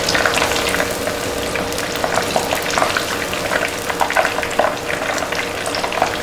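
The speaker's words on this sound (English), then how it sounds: "So just fry till they are nice and golden brown from outside." Tempura prawns and vegetables such as asparagus deep-fry in hot oil with a loud, close, continuous crackling sizzle, full of popping bubbles throughout and no voices.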